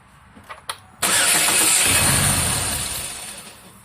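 A misfiring car engine cranks over during a compression test: a few faint clicks, then a sudden loud burst of cranking and running noise that holds steady and fades gradually over a few seconds.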